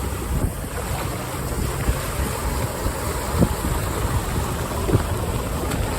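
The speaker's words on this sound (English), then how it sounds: "look at the water running down here" Floodwater runs down an off-road trail in a constant rushing wash, heavily buffeted by wind noise on the microphone.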